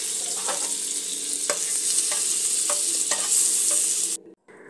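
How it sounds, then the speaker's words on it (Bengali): White oil and butter heating in a pan for pasta, a steady close sizzle with intermittent scraping stir strokes, ending abruptly in near silence. "পাস্তাটা রান্না করার জন্য একটা প্যান বসিয়ে নিয়েছি, আর তার মধ্যে দিয়ে দিলাম একটু সাদা তেল। তবে এই সাদা তেলের মধ্যে আরও একটু দিয়ে দিলাম বাটার।"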